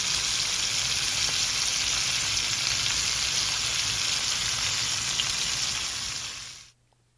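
Seasoned chicken pieces sizzling and frying in a pan, a loud continuous hiss and crackle up close that fades out abruptly at the end.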